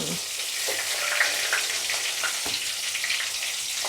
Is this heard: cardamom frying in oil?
yes